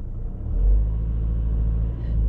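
Car engine running during a mock driving test as the car moves off, a close low rumble that swells briefly and then holds steady throughout.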